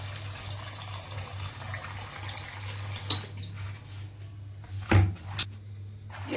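Cluster beans (guar) being washed in water in a kitchen, with steady swishing and splashing over a low hum, plus a few sharp clinks of dishes and utensils nearby.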